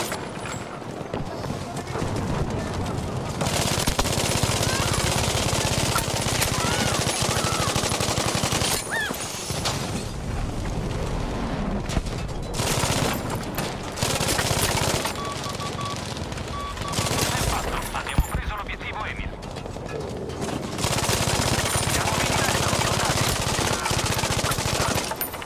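Machine guns fire in Battlefield 5 multiplayer gameplay in long, loud, near-continuous rattling bursts. Scattered shots and battle noise fill the brief gaps.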